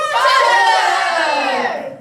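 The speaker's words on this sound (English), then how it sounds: "there is much commotion as various large and imposing types strode to the front of the crowd" Stage commotion from a crowd of young actors in a school theater production of "The Snow": loud, bright overlapping voices shouting and exclaiming together, sustained for about two seconds before trailing off.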